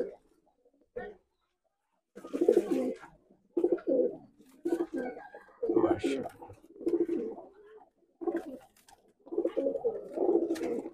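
Nildumma pigeons cooing in a coop, several soft, close, rolling coos coming in bursts with short silent gaps between them.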